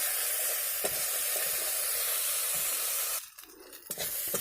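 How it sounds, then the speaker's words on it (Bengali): Okra and potatoes sizzling in a little oil with salt and turmeric in a pan, a steady close hiss with a few stirring clicks, briefly broken near the end by a scrape before the sizzle resumes. "আমার ঢ্যাঁড়স আর আলুটা খুব ভালো করে ভাজা হয়ে গিয়েছে"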